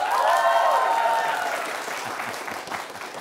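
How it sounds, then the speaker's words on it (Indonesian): Studio audience clapping on a TVRI Sumatera Selatan television show, starting loud and thinning out, with a voice or tonal sound ringing over the opening moments. "Kurang meriah, tepuk tangan lagi ya"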